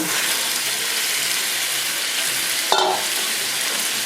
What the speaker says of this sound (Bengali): তো বন্ধুরা এবার আমি মাছ দিয়ে একটু কষিয়ে নেব